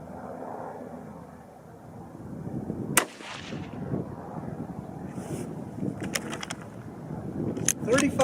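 A single sharp, loud rifle shot from a 22-250 Remington loaded with Hornady 50-grain V-Max bullets over Varget powder cracks outdoors, followed by wind buffeting the microphone and faint clicks of handling.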